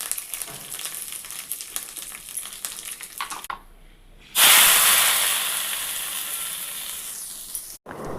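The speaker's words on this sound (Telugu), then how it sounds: "లిడ్ ఓపెన్ చేసి ఇందులో పోపు యాడ్ చేసేయాలి" A loud burst of sizzling as tempering hits hot oil, fading gradually into steady frying hiss after a brief quieter moment before it.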